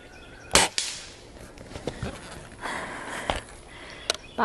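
A Springfield Armory M1A under-lever .22 air rifle firing Barracuda 15 pellets gives a sharp close pop, followed by softer clicks and thuds of handling and a few more faint snaps.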